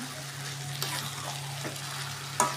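Meat fries in a kadai with a steady, even sizzle throughout, joined by a low hum and a couple of brief clinks from stirring.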